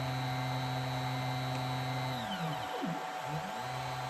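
Stepper motors on a home-built CNC router table whine with steady tones that sweep down, stop briefly and ramp back up as the axes jog, loud and close.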